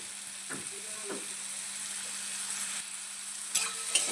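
Tomato, capsicum and salt fry in a pan being stirred, a low steady sizzle broken by a few soft scrapes of the spatula. It is moderately quiet and close, with no voices.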